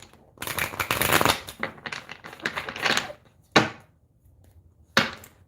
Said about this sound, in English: In between each sign, you will see me have to shuffle.